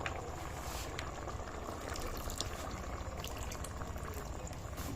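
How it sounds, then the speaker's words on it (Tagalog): Water at a rolling boil in a pot for tuna pasta, a steady dense bubbling that stays even and continuous throughout, close up, with no talk over it. "Kumukulo na."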